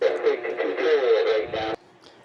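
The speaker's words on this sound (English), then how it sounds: "Sorry about that noise, that's my scanner going off." A radio scanner going off, a burst of garbled, crackly radio voice transmission lasting under two seconds before cutting out to near silence.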